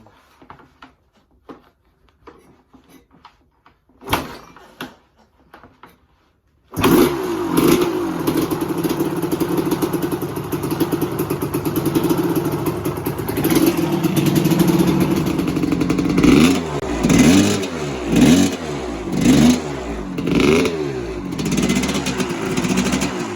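A 1983 Yamaha YZ250 two-stroke motorcycle, missing its idle screw, is kicked over with a few clunks, then fires up loud and close, revving repeatedly in rising and falling bursts.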